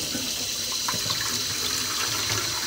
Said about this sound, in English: So you want to wash your dhal until it's running clean.